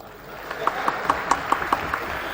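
An audience at a public event claps in a short, even run of sharp hand claps, about five per second, fairly close and alone without talk.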